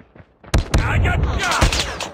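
Gunfire in the mobile shooter Call of Duty Mobile: a couple of sharp shots, then a dense, loud burst of rapid automatic fire through the second half, with faint voices mixed in.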